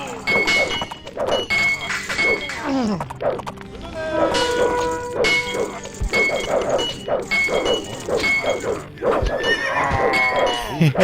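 Horses neigh and whinny repeatedly among Age of Empires game sound effects, clanging hits and hoofbeats, with a person talking over it.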